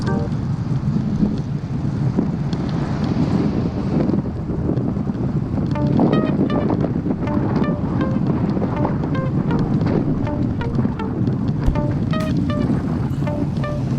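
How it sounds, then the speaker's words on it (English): Steady loud wind roaring across the microphone during a group bicycle ride, with faint tonal whine and ticking underneath, continuous for the whole stretch. "the wind is picking up"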